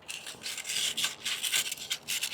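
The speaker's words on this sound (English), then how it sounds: "Next, we're going to remove the key and then take some sandpaper and clean off the" Sandpaper rubs back and forth over the drive shaft of a vertical Ryobi pressure washer pump, giving a bright, gritty scratching in quick uneven strokes, close up with no talking.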